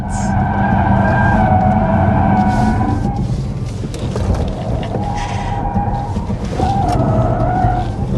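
A 2026 Cadillac OPTIQ-V, a 519 hp performance SUV, pushed hard through a slalom: a loud, sustained engine drone with shifting tones and tire noise as the car swings left and right, with no one talking.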